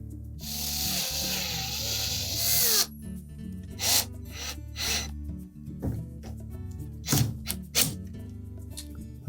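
Screws driven into a replacement Whirlpool refrigerator door handle, probably with a power driver: a steady whir for the first few seconds, then a series of short clicks and scraping bursts up close.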